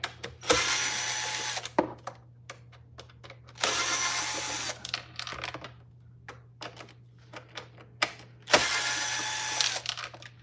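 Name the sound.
removing screws from a vacuum cleaner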